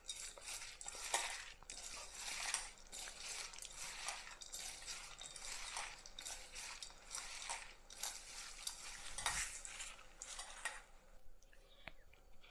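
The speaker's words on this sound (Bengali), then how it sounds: "এই আলু দিয়ে আমি পরিমাণ মতো দিয়ে দিচ্ছি নুন, দিয়ে আমি একটু মেখে নিচ্ছি" Potatoes with salt are mixed by hand in a pan, giving quiet, irregular scraping and rustling strokes with a few small clinks, heard close and faint.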